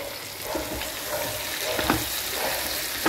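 Telangana special chicken fry being stirred in a pan, a continuous close sizzle and hiss with repeated scraping strokes of the spoon throughout.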